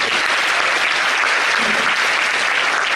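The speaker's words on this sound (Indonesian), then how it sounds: "Tepuk tangan buat Indonesia" An audience erupts in loud, continuous applause, a dense wall of many hands clapping at a steady level for three seconds without a break.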